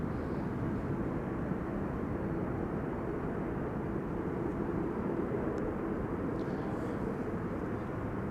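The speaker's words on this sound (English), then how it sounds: "Atlas Air arriving from Miami, Florida" Atlas Air cargo jet arriving at Amsterdam Schiphol from Miami on a windy day, a steady broad engine roar held at an even level throughout, moderately distant with no talk.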